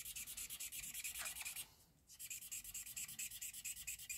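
Light Balmy Blue ink marker scribbling back and forth across paper in a papercraft project, a close, steady rhythm of rapid rubbing strokes with one brief pause midway.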